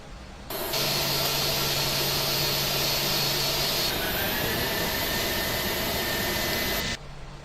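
Both jet engines of an Airbus A320 run in Microsoft Flight Simulator X, a loud steady roar and whine that spools up abruptly, holds constant with a shifting tone midway, then drops back down.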